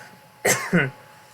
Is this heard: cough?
yes